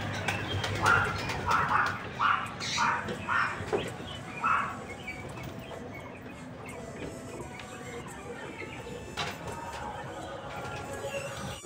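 Pet pigeons coo nearby in a series of five or six soft rhythmic calls, followed by quieter rustling and faint background noise; a brief murmur of voices may be present.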